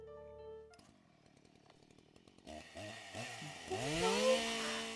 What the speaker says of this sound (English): Where was that chainsaw?